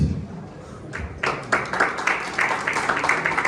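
An audience at a conference talk breaks into applause, with scattered claps building into steady, moderately loud clapping that continues to the end.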